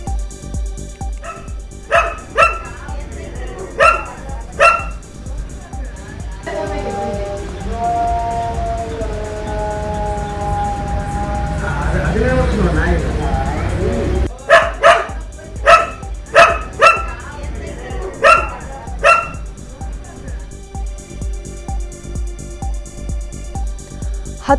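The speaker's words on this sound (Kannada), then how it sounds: "ನಾಯಿಯ ಕಿರುಚಾಟ ಕೇಳಿ ಮನೆಯೊಳಗೆ ಬಂದು ನೋಡಿದಾಗ ಹಾವನ್ನ ನಾಯಿ ತಡೆದು ಕಂಡು ಬಂದಿದೆ" A pet dog inside a house confronts a snake, barking in sharp repeated volleys, pausing for a stretch of whining yelps, then breaking into rapid, loud barking again, close by.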